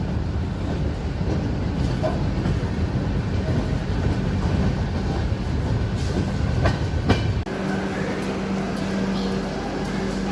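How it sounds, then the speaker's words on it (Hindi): Telangana Express pulling out of Kazipet station, a steady close rumble of wheels and carriage noise with faint rhythmic clatter running throughout, shifting to a lower hum near the end. "तेलंगाना एक्सप्रेस काजीपेट से रवाना हो गई है।"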